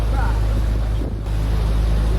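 A tour boat's engine drones steadily with a low hum in New Zealand, mixed with rushing water and wind noise, loud and continuous throughout.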